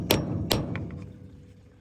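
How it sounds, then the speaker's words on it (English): A wood chisel is struck against a Ford F600 steering gear box, two sharp metallic hammer blows about half a second apart, followed by a few lighter taps that fade out. "let's see if we can't wood chisel this thing"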